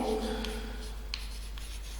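Faint scratchy strokes of a pen writing on paper, a few brief light scrapes over a steady low electrical hum in a quiet classroom.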